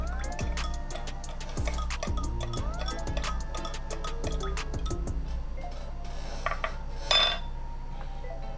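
Spoon stirring sugar-dissolved water for cherry hibiscus iced tea, a quick run of light clinks and taps against a glass with faint liquid swirling, close and steady, ending in a brighter rattle near the end.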